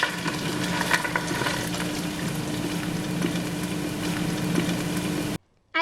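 Potato latkes fry in a pan with a dense, steady crackling sizzle close by, ending abruptly in near silence.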